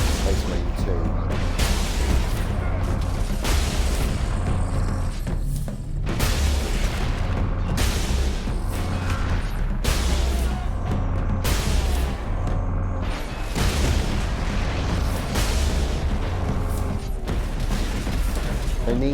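Lascannon shots in the Space Marine video game, repeated deep booming blasts with a heavy mechanical edge at irregular intervals, loud and close amid game sound, with a voice talking over them.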